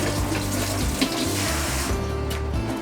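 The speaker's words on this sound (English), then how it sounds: "Rinse it off." A kitchen tap pours water over an Aeropress coffee maker as it is rinsed after the used grounds are popped out, a close, steady splashing stream that shifts in tone as the parts move under it.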